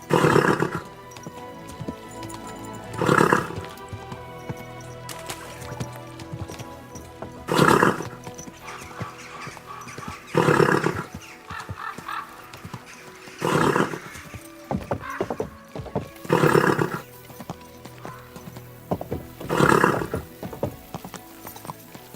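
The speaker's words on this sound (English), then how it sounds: "Easy, good horse." Horses neigh loudly several times at regular intervals, with hooves clopping and shuffling nearby between the whinnies.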